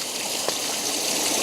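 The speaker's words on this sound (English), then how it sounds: "Oh my gosh, look at all that water pouring out." Rainwater pours from overflowing gutters during a hail storm, a steady rushing splash heard near and continuous, with no voices.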